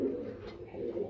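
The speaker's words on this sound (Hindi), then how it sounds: "और एक देसी कबूतर भी है रामपुरी।" Pigeons in a loft of Andhra and Malwai birds coo in a steady, low, throaty murmur, close and continuous through the short moment.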